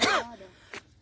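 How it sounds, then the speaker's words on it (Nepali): A person coughs once during a camping trip, a short harsh burst followed by a fainter second catch, close to the listener. "पुरै खोकी लाग्न थाल्यो अब"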